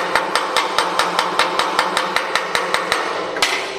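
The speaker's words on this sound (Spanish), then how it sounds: "voy a quitar la escoria" Slag being chipped off a weld bead on cast iron with a chipping hammer: about fourteen sharp, ringing metallic taps in steady quick rhythm, close and loud, with a faint hum underneath and no talk.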